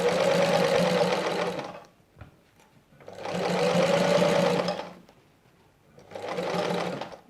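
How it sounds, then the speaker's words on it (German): A sewing machine stitches a binding corner through many layers of linen and faux leather, running in three loud, close bursts of steady whirring separated by short pauses. "Wir brauchen eigentlich nur noch die Ecke nähen."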